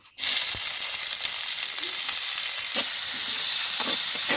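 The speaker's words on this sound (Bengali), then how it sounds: "এখন দিয়ে দেবো পেঁয়াজ কুচি" Chopped onion hits hot oil that already holds bay leaves, dried chillies and cumin, bursting into a loud, close, continuous sizzle, with scraping stirs and soft pops over several seconds and no talking.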